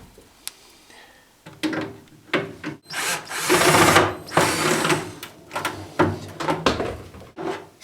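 Screws and bolts on a fridge door hinge are undone with a power driver in short whirring bursts, mixed with scraping, clicking and handling of metal parts, close by and without talk.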